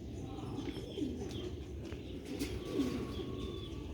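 Sialkoti Jonsre Moti pigeons give two soft, rolling coos, close by over steady background noise.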